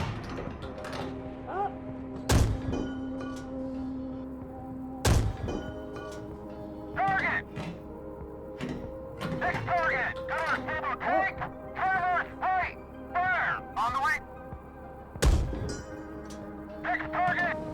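An M60A3 tank's main cannon fires in the Gunner HEAT PC game, with three sharp, heavy blasts spaced several seconds apart over a steady mechanical hum. Brief bursts of radio-like voices fall between the shots.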